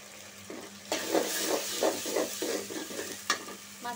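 Garlic and ginger paste fries in a pan while a spoon stirs it, giving a soft sizzle under a rhythmic series of close scraping strokes, about seven in a row, with no talk.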